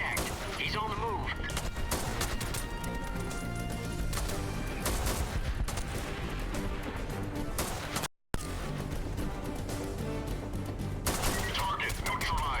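Gunfire in SOCOM US Navy Seals II: dense bursts of automatic weapon fire and rapid shots pile up continuously over a long stretch, with a brief cut in the middle, loud and close amid in-game chatter.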